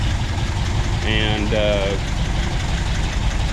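Rebuilt Porsche 356SC engine idling during break-in, a steady mid-low engine drone throughout, with a brief spoken word near the middle.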